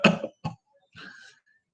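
A person coughs, two sharp close bursts in quick succession followed by a softer, breathy trailing cough, with silence around them.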